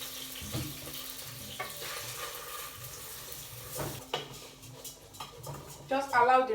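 Rice is rinsed in a small filter under a running tap, making a continuous splashing wash with clinks of the filter against the sink, louder bursts near the end, and a voice talking over it.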